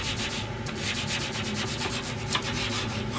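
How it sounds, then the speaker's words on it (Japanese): A sashimi knife saws through a pan-pressed toasted sandwich, giving a close, steady crunchy scraping of repeated rough strokes over about three seconds, with no talk. "刺身包丁でね、切るのが大変です。"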